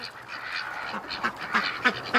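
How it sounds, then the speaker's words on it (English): Ducks in a pen quack loudly and repeatedly, overlapping nasal calls rising in bursts toward the end, with no talking. "I know, ducks, you're awful loud"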